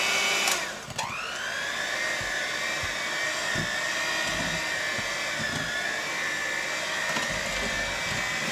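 An electric hand mixer whirs into chocolate oatmeal cake batter in a home kitchen, revving up sharply at the start and then holding a loud, steady high whine, with faint scraping taps against the bowl.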